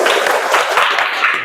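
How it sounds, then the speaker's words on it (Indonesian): Applause from a class of participants at a morning teacher-training session, a dense burst of many hands clapping close by with voices mixed in. "Tepuk tangan untuk kita semua."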